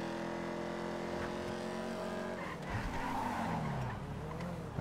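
A drift car in GTA 5 slides with long, steady tire squeal over a constant engine drone that shifts pitch midway as the skid changes, loud and continuous throughout.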